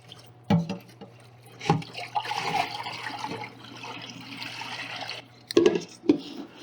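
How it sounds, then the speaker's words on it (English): Water draining from freshly washed California peony in a kitchen, a steady splashing and trickling wash with a few louder clunks at the start and end, with no voices. "Drain the water."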